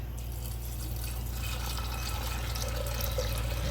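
Water pours steadily into a pressure cooker holding soaked beans, a continuous close rushing splash at even volume, with no talk.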